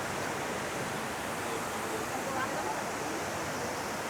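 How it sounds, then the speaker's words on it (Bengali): Steady, dense roar of Ravana Falls in Sri Lanka, broadband and continuous throughout without breaks, heard from nearby. "কত উঁচু থেকে পানি ঝর্ণা দ্বারা নামতেছে"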